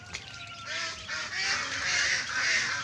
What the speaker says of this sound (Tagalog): Ayan po yung mga maliliit kong itik.